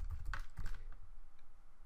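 A short burst of key taps on a computer keyboard, a few close clicks in the first moments before the sound fades into quiet room tone.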